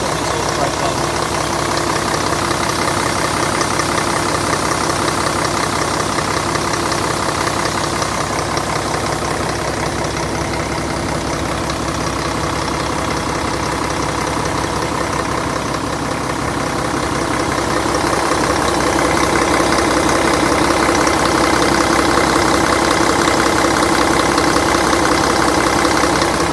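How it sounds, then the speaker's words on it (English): A cold Volvo FL10 320 tractor unit idles with its exhaust brake engaged while warming up, a steady, loud diesel rumble with a faint knocking texture that swells slightly toward the end, with no voices over it. "That's the exhaust brake on because she's cold, so she's warming up at the minute"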